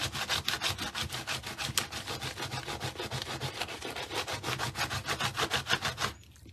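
A white candle rubbed back and forth across an art journal page, making a close, steady run of quick scratchy strokes in a regular rhythm that stops abruptly near the end, with no talking over it.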